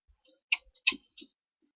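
Sharp computer mouse clicks made while clicking at random during a horror game, a handful of quiet, irregular taps spread over about a second and a half with no talking.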